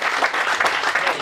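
An audience at a hypnotist show claps for a volunteer, a brief burst of close, lively applause with no talk over it.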